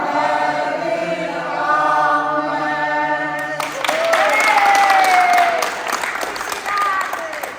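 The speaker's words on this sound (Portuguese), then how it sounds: "palmas." Applause breaks out from an audience at a church festivity held in honour of a priest, a burst of clapping with cheering voices that follows a stretch of sustained music or singing and continues loudly to the end.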